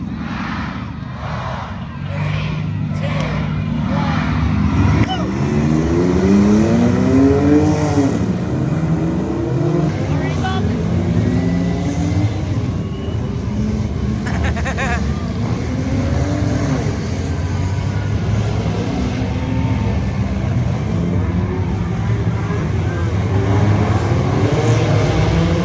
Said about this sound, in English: We get to show them what's some real burnouts.